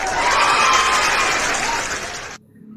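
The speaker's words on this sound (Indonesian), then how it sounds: "Kita kasih sorakan ya" A loud crowd cheering sound effect, a dense wash of shouts and applause that cuts off abruptly near the end.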